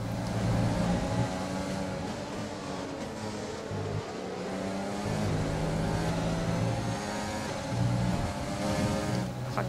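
A Formula 1 car in the racing game F1 2020 at top speed, its high engine drone steady and loud with shifting harmonic tones, heard alone without talk.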